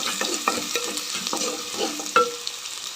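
A spoon stirs makhana gravy in a pan, with soft repeated scraping strokes over a steady low sizzle of frying, close by and moderately loud, plus one brighter clink near the end.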